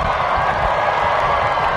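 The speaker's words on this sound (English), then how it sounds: "I want you to stand up and wave and cheer your supportive family and friends." A graduation audience cheers for family and friends, a dense, steady roar of crowd noise with no distinct pauses.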